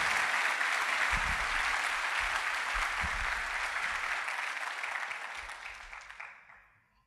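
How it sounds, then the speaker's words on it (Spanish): A church congregation bursts into hearty applause at a Spanish-language service, a dense, loud clapping that gradually thins and fades away over about seven seconds. "Dele usted un aplauso al Señor, pero uno de a de veras, uno que valga la pena."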